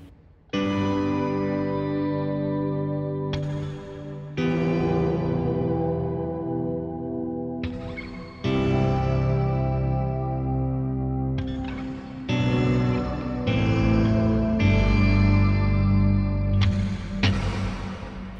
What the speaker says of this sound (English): Let's hear what it sounds like